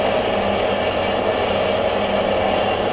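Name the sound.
band saw cutting steel bars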